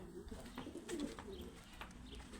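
Pigeons in a coop give soft, repeated low coos, faint and close, against a quiet background hum.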